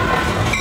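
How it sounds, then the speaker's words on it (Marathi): A train pulls into a railway platform, a loud steady rumble of rolling wagons close by with no talk over it. "अरे खरं ट्रेन आली."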